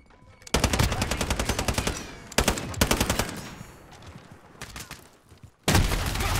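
Gunfire in a first-person shooter match where a Desert Eagle pistol is in play: loud, rapid bursts of repeated shots that stop and start several times, ending in a sudden heavy burst.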